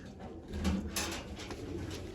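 Soft, low pigeon cooing, a few rounded coos repeating close by against a quiet background.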